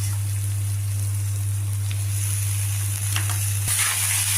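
Boiled plantain and carrot pieces drop into a hot tempering, bringing a steady, moderate sizzle with a low hum beneath and one brief clatter near the end.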